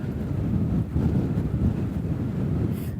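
Steady wind on a Lake District ridge buffets an outdoor microphone, a low rumbling roar with gusts that swell and ease throughout, no voices.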